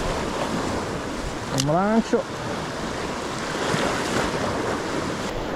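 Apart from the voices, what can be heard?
sea waves breaking on the shore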